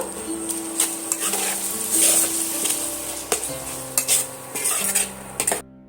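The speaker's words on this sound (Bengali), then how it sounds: "আমি এইভাবে আবারও কিছুক্ষণ ধরে কষিয়ে নেব" Chicken kosha with chilli powder is stirred in a pan, with repeated metal utensil clinks and scrapes against the pan over a light sizzle, ending abruptly.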